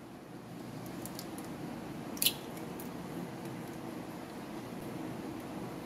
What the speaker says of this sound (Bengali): তার জন্য ডিমটাকে এখানে ফাটিয়ে নিচ্ছি।